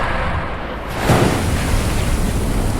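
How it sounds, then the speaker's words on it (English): A sci-fi audio drama effect of an intergenerational rocket spaceship bursting up through the ocean surface: a wash of surf-like noise that swells into a sudden loud rushing roar about a second in and then keeps roaring. "The intergenerational spaceship burst through the surface of the water."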